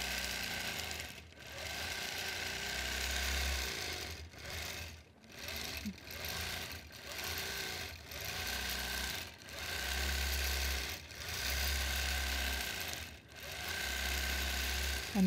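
A sewing machine quilting fan patterns through a quilt and over a thick seam allowance, heard as rhythmic bursts of rapid stitching broken by short pauses, close and moderately quiet.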